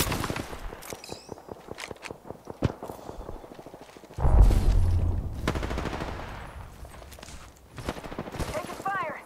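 Gunfire in the video game Apex Legends comes as rapid bursts of shots with footstep-like clatter, loud and close, while a game voice calls out over the action.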